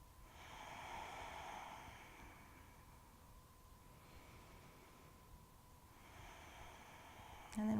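Slow, deep breaths during a yoga session, soft inhales and exhales rising and falling in long waves, faint and close in a quiet room, with a brief louder rustle at the very end.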